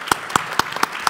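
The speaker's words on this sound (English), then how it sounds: "Round of applause for Teresa." Scattered applause at a coffee industry symposium, a handful of distinct, evenly spaced claps standing out in a short burst.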